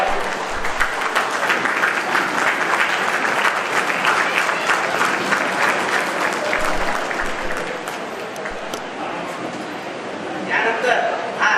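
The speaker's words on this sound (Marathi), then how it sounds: "एकदा आपण उभारून टाळ्या वाजवू त्यांच्यासाठी" An audience at an award and felicitation ceremony rises and applauds, sustained dense clapping filling the room for the whole stretch and easing slightly near the end.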